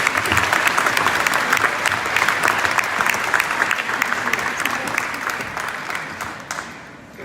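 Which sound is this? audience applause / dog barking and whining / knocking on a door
audience applause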